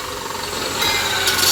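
A belt grinder shortening a metal fuel tank filler neck during a VC Brock build makes a steady, close abrasive rasp that grows slightly louder and harsher toward the end, with no talking.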